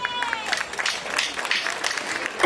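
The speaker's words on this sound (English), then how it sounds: "Please give them a round of applause." An audience claps at a youth indaba engagement day in Grootfontein, a steady wash of crowd applause with a few voices mixed in.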